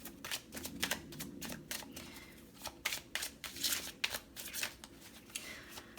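Tarot cards are shuffled and drawn with quick papery riffles and flicks in irregular bursts, close and crisp.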